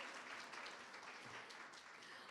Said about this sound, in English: Can we get a round of applause for the chef, the kitchen staff?